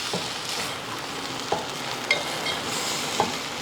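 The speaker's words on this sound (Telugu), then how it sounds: "తర్వాత ఒక టేబుల్ స్పూన్ కారం వేస్తున్నా. ఓకే, ఒకసారి కలుపుకుందాము." Okra frying in a pan as chili powder is stirred in, a steady soft sizzle broken by three sharp scrapes of a spoon against the pan.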